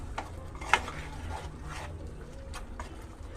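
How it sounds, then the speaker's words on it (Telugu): Gongura prawn curry is stirred in a pan, with intermittent spoon scrapes and a sharp clink against the metal over a soft sizzle, close up and with no talking. "ఇదంతా ఒకసారి కలుపుకుందాం"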